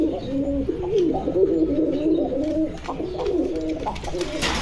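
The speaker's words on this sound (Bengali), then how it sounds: "ডাক দেখছেন কবুতরের" Several domestic pigeons coo continuously at close range, with soft, overlapping throaty calls that rise and fall and a faint background hum.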